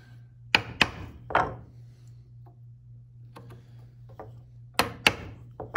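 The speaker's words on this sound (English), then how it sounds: "And this way I'm chopping with the grain." Several sharp chopping strikes on wood along the grain while shaping a marking gauge, arriving as separate loud knocks in two clusters with quiet gaps between, over a steady low hum.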